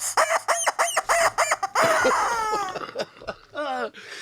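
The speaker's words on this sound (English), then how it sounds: "And the rubber chicken says..." A rubber chicken squawks in a rapid string of loud, close, clucking squeals, then gives a longer strangled crowing wail with a couple of trailing squawks.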